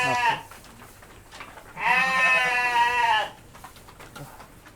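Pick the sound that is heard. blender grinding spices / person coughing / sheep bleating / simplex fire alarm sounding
sheep bleating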